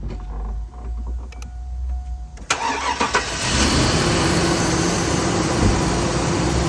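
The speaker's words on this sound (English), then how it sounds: "Now I'm going to start the car." A car engine cranks and fires up after the battery is connected, settling into a steady, loud idle that runs on alone to the end, preceded by a quiet background hum.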